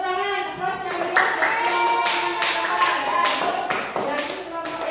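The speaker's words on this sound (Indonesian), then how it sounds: "Beri tepuk tangan" Schoolchildren in a classroom clap their hands after a group presentation, a few seconds of uneven, scattered claps and taps close by, with voices talking alongside.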